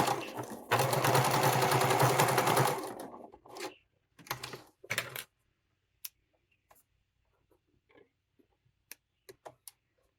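Sewing machine stitching through the thick top of a wallet's back facing, a steady close whirring burst of a couple of seconds, then a few short stitch bursts and scattered faint clicks and handling taps.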